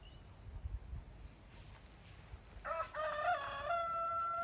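A rooster crows once, loud and close, its long drawn call rising out of quiet rustling and running to the end.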